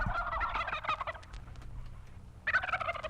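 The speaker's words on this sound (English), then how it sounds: "The turkeys are loose in Custer County." Turkeys gobble loudly nearby, one rattling call burst followed after a short pause by another, with faint background noise in between.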